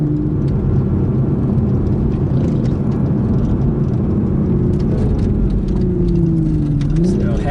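A Toyota GR Supra GTS cruises through sweeping bends at about 90 km/h, its engine holding a steady drone under road and tyre roar, pitch dipping and rising slightly near the end.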